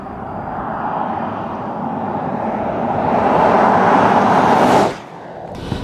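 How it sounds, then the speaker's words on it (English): A 2014 Jeep Grand Cherokee diesel in sport mode accelerates hard from a standstill, its engine rising in a loud building roar before dropping off abruptly near the end. "0 to 60. Let's see what this diesel can do, baby."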